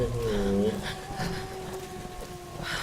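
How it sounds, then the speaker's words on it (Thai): A dog howls in the Tomb Raider video game, a wavering tonal cry in the opening second over steady ambient game noise, fading into a low background hum. "เสียงหมาหอนอ่ะ"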